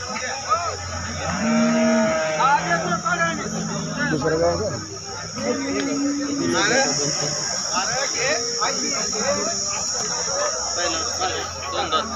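Cow at a busy cattle market lowing in several long, drawn-out moos close by, over a steady high insect drone and general crowd murmur.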